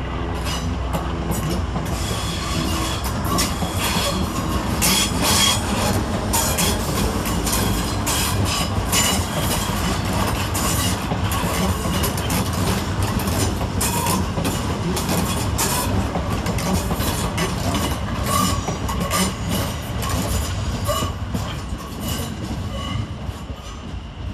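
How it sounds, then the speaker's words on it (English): Two coupled Southern Railway class 455 electric units, 455-814 and 455-813, depart Clapham Junction station, with loud close wheel clatter, rhythmic clickety-clack over rail joints and occasional squeal, rumbling steadily throughout. "Next out, 455-814 and 455-813, with the 1809 Southern Railway service from London Victoria to Epsom Downs."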